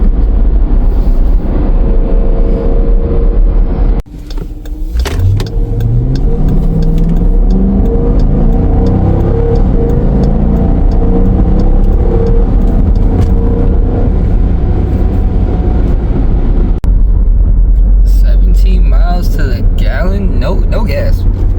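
A Dodge Durango V8 roars loudly from inside the cabin while driving, its engine note climbing in pitch as it revs hard through the gears with a brief dip at a shift, then settling into a deep sustained drone.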